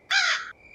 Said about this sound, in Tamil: காக்கா கடிக்குது கைஸ்.